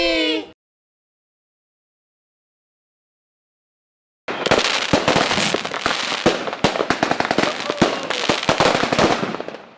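A brief voice, then several seconds of silence, followed by a dense barrage of Diwali firecrackers bursting in rapid, loud cracks.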